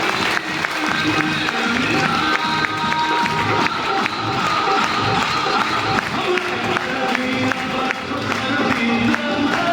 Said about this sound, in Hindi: पहले तो मैं चाहूंगा इनसे जोरदार वाली ताली हो जाए, जोरदार